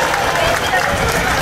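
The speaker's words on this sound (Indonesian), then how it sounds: "Tepuk tangan buat kita semua dulu." Loud, dense applause from a crowd at a church building consecration service, with cheering and voices mixed in, a brief burst of close clapping.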